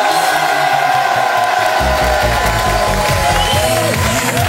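Audience at a French nightlife show applauds and cheers for the guest performers, dancers and DJs, a loud, dense crowd roar with music thumping underneath throughout.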